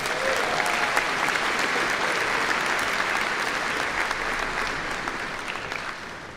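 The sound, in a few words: audience applause at commencement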